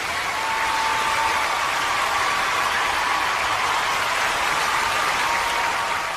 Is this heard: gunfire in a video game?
no